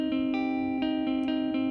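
A sustained electric guitar tone, distorted by a harmonic distortion plugin, rings out with a gritty, slightly retro edge, with faint repeated transients pulsing through it, no voices.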